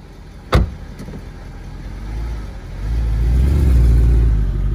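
A Mercedes C63 engine fires up with a sharp burst, settles into a rumbling idle, then swells into a deep, sustained rev that grows louder toward the end, close by and with no talking.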